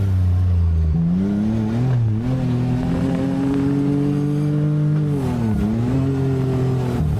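A Can-Am Maverick R side-by-side running an EVO transmission tune revs hard and steadily, its engine pitch climbing and dropping through gear shifts and aggressive downshifts, loud and close with no talking.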